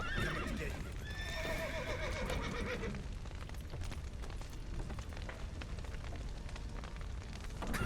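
Close, loud whinnies from horses in a video game, over a burning barn with a collapsed roof, followed by a continuous clatter of hooves and crackling noise.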